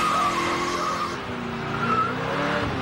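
A 1980s street machine does a burnout at the 1989 Summernats competition, its tires squealing loud and steady over the roaring engine for the whole stretch.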